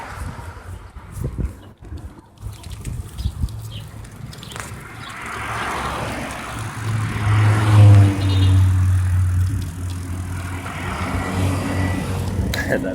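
Street traffic passing nearby, with cars swelling and fading as they go by, a low rumbling roar that builds toward the middle and stays steady, with wind and handling noise up close.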